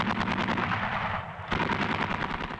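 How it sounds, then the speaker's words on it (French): Rapid bursts of heavy 20 mm autocannon fire rattle continuously, with a brief dip in the middle before the firing resumes. "dotée de canons mitrailleurs de 20, très efficaces au sol, mais aussi en autodéfense anti-aérienne"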